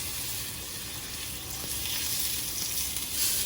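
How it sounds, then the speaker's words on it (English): A tomahawk steak searing in a pan produces a continuous hissing sizzle that swells slightly louder toward the end, close and steady with no talking. "Okay, so I'll just let this sear,"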